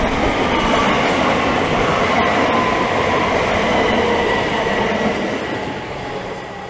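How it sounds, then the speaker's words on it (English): A Southeastern Class 375 electric passenger train rushes past close by at Teynham on the Chatham Main Line, a loud, steady roar of wheels and rail noise that holds for several seconds before easing slightly as it moves away. "the delayed 1617 Southeastern service from London Victoria to Dover Priory"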